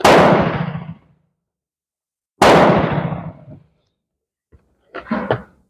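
Two sharp, loud gunshots from a Beretta Olympia pistol firing .22 Mini-Mag rounds, each cracking hard and ringing out over about a second, spaced a couple of seconds apart; a short bit of speech follows.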